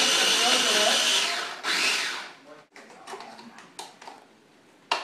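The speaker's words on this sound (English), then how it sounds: "I'm just going to put it in my little Cuisinart here." A small Cuisinart mini food processor grinds garlic in a loud, steady whirring motor run that stops after about two seconds, followed by quieter rattling and tapping of the bowl.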